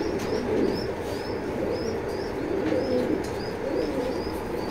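A female racing pigeon coos in soft, repeated low murmurs close by, with faint chirps above. No one speaks over the cooing.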